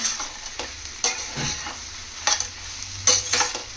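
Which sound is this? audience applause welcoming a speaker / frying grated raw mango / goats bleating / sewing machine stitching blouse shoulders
frying grated raw mango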